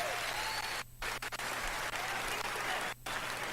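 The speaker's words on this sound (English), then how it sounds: "Why y'all clapping?" A large audience at the Bethesda E3 2019 press conference claps in a dense, loud, sustained wash of applause, broken by a couple of short dips in the sound.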